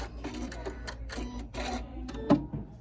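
A Janome Continental M7 sewing machine runs its automatic thread cutter, giving a series of mechanical whirs and clicks that end in a sharper knock near the close.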